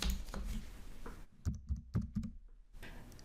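Quiet, close typing on a computer keyboard, with short bursts of keystrokes separated by brief pauses.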